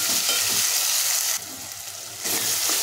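Onion and tomato with a little salt frying in a pan, a loud close hiss of sizzling oil that drops briefly quieter in the middle then surges back, with soft stirring scrapes underneath and no talking.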